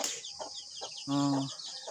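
Chickens cluck in short bursts with one longer, drawn-out squawk in the middle, fairly close, over a faint high background hiss.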